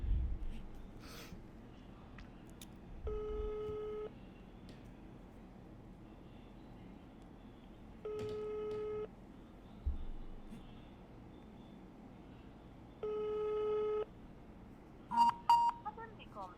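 An IVR phone system plays repeated telephone call tones, three evenly spaced ringing bursts about a second long each, followed by a quick cluster of beeps, over quiet background hiss.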